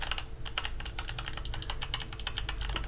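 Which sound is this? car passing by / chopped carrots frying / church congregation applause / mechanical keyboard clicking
mechanical keyboard clicking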